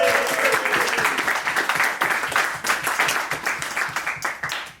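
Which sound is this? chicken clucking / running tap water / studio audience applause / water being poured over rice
studio audience applause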